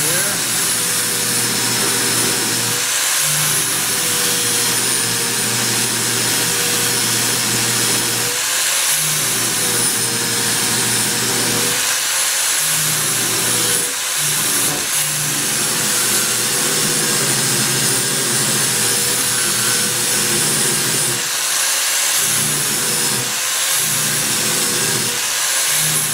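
An angle grinder cuts down a bracket on the door of a 1929 Chrysler, a loud, steady high-pitched whine that runs throughout with brief dips where the tool eases off the metal.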